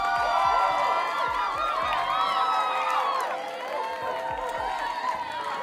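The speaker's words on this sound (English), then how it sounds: "Round of applause." A crowd cheers and whoops, with raised voices and shouts rising and falling over a light patter of clapping.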